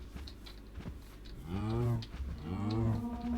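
Cows in Minecraft mooing, two drawn-out low moos one after the other, fairly close over a faint background hum.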